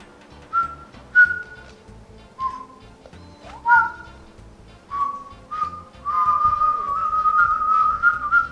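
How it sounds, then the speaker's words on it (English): A person whistles a series of short, clear notes with small pauses between them, then holds a longer tune near the end, close up over faint game music. "Damn your whistling ability."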